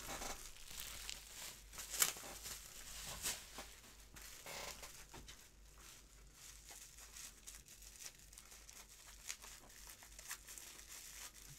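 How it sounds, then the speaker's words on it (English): Taped bubble wrap is pulled and torn away from a resin model kit, giving quiet, irregular crinkling, crackling and tape-ripping bursts close by, with no talking. "It's taped and bubble wrapped, and then there's more tape and more bubble wrap"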